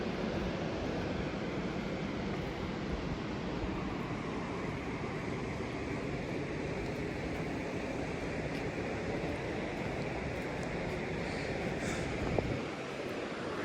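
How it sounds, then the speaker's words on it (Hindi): The Alaknanda river rushes steadily past an ancient temple site below a small dam, a constant broad wash of flowing water filling the whole stretch with no talking. "ये अलकनंदा जी बह रही हैं।"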